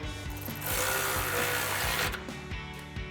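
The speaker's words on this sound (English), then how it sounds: "So we've got an 18mm socket on our ratchet and an 18mm wrench. We'll tighten this one down." An 18mm socket on a ratchet tightens a through bolt for truck bumper support brackets, giving a close, loud run of rapid clicking pawl strokes in repeated bursts, with no voices.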